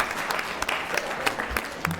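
Applause breaks out at a school board meeting, a brisk, continuous patter of many hands clapping at close range, with some voices murmuring underneath.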